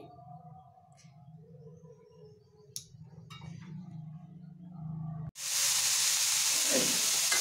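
Ghee hitting a hot kadai bursts into a loud, steady sizzle partway through, following quieter kitchen sounds and faint clatter beforehand.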